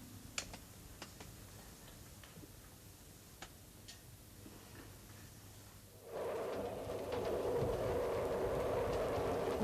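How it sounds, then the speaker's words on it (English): Passenger train rolling on rails on a journey to Paris, a low steady rumble with light ticking rail clicks that swells louder and brighter about two-thirds through, no talk. "What time does this train get into Paris"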